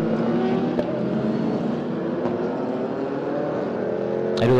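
Race cars circulate behind the safety car at Magny-Cours, giving a steady, loud drone of engines at low pace with a few brief passing bursts and a rise in intensity at the end.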